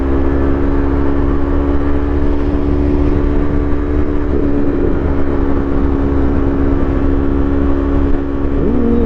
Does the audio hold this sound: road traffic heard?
yes